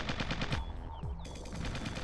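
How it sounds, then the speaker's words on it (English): Rapid machine-gun bursts crackle through a firefight in the strategy video game Original War, loud and close, repeating in quick rattling volleys with no talking. "They're shooting at me, sir."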